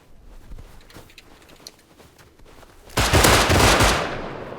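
Gunfire in the video game Rust: scattered shots crack through the first few seconds, and then a loud, sustained burst of rapid automatic fire starts near the three-second mark and runs to the end. Nobody speaks.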